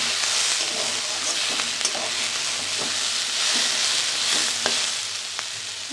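Vegetables, including spring onion stalks, beetroot, carrot and potato, fry in a hot pan with a steady, loud sizzle throughout, broken by occasional clicks and scrapes of stirring, with no voices.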